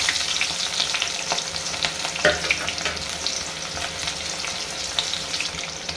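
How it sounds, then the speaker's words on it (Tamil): Mustard seeds and urad dal splutter in hot oil for a Chettinad mutton dish, a steady close sizzle with scattered small pops and crackles throughout, no voices. "கடுகு, உளுந்தம்பருப்பு சிறிதளவு வெடிக்கட்டும்"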